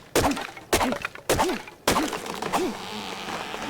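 Four hollow wooden thunks from chopping a tree for wood in ARK: Survival Evolved, struck at a steady pace about half a second apart, each followed by a short creaking groan, close and fairly loud with no talking.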